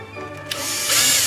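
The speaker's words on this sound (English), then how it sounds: "Drill a couple of holes in it." A power drill spins up to drill a base for a decorative glass part, its whine rising and growing louder over a second or so.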